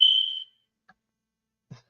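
A smoke detector gives a single sharp, high electronic beep lasting under half a second. It is followed by near silence and a couple of faint clicks.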